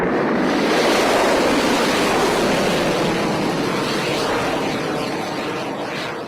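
Rocket launch ignition producing a sustained, loud broadband roar that stays dense and continuous throughout, fading only slightly toward the end.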